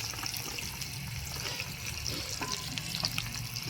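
Paneer frying in a kadhai gives a steady, dense sizzle with crackling spatters throughout, recorded close. Faint background clatter runs underneath, with no speech.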